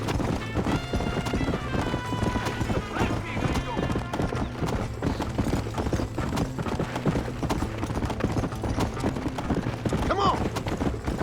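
A horse gallops in the Red Dead Redemption video game, with steady rapid hoofbeats running throughout under a dense game soundtrack and sound effects.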